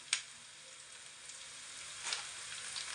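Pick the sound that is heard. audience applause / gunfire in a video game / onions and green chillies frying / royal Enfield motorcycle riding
onions and green chillies frying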